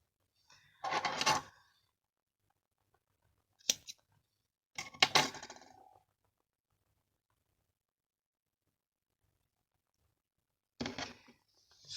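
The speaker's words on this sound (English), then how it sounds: "I'm just going to snip my yarn here." Scissors snip yarn during a crochet project: a few short, crisp cuts and handling clicks in a quiet room, separated by stretches of silence, close and clear with no talk.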